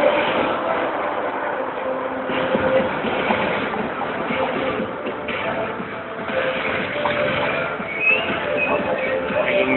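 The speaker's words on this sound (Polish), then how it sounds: "W oddali widać most kolejowy, po którym przesuwają się pociągi." A steady rumbling train crosses a railway bridge in the distance, a continuous clattering roar with faint metallic squeals and no pauses.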